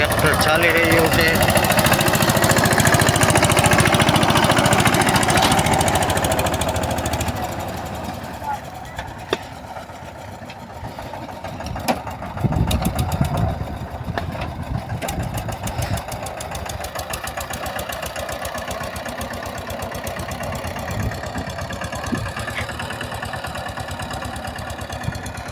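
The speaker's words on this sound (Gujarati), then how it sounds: "જો ટ્રેક્ટર ચાલી રહ્યું છે." A tractor engine runs steadily in a field where chickpeas are being sown, a loud, rough, continuous mechanical drone that is heaviest at first and then settles to a lower, steady idle-like hum.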